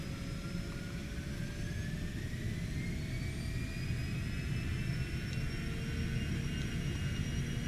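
Twin jet engines of a Cessna Citation X at takeoff thrust in a flight simulator, a continuous loud roar with rising whining tones, steady and near, no voices.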